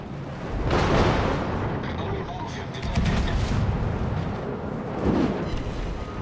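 Heavy naval gunfire from warships in an online battle game, deep rumbling booms and bursts rolling together almost without a break, with a voice talking over the battle sounds.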